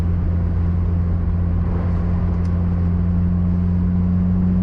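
Honda S2000 fitted with a Tanabe exhaust and intake running, a steady smooth engine drone with a strong low hum, constant and fairly close, no talking.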